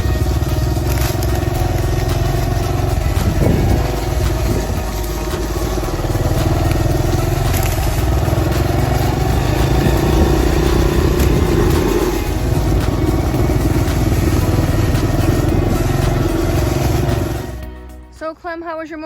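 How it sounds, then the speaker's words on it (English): A motorcycle rides through woods near a cabin littered with fallen trees, its engine droning steadily and close for most of the ride with crunching and scraping over debris, before cutting off near the end. "So Clem, how was your motorcycle ride?"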